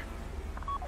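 A phone keypad in GTA V plays a quick, faint run of short dialing tones to trigger a bank vault door. The tones come near the end of a brief moment, over a low background hum, with no talk.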